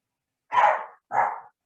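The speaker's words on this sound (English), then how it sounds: "Sorry, that's the dog." A dog barks twice in quick succession, two short, full barks close by with a brief gap between them and silence around.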